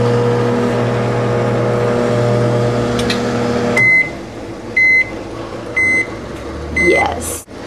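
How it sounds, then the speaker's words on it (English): A microwave oven reheats shrimp scampi in a dorm kitchen: a loud, steady electric hum for about four seconds, then the hum stops and four sharp electronic beeps follow at roughly one-second intervals. "now we'll just pop this in the microwave for like 45 seconds"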